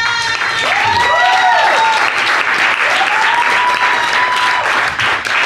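An audience applauds loudly after a rap performance, with sustained clapping and a few rising whistles over the crowd.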